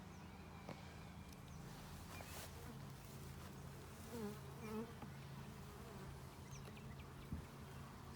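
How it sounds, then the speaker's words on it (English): Honeybees flying in and out of a hive on a warm day, a continuous soft buzzing drone with individual bees passing close by, faint and steady with no speech. "See all those bees coming in, they've got nectar, pollen"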